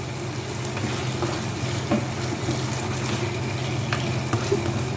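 Chicken seasoned with salt and black pepper is stirred in a hot pan for a restaurant-style chicken Manchurian, giving a steady close sizzle with occasional light scrapes of the spoon.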